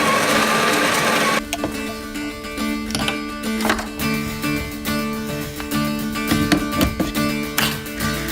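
An espresso machine making espresso opens with a burst of steamy hiss, then settles into a steady mechanical pump hum with rattles and ticks, close and without voices.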